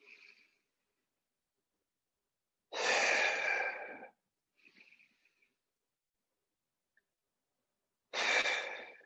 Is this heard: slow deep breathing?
yes